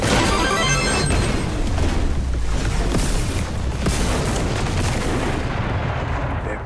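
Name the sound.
explosion in the video game Contra: Operation Galuga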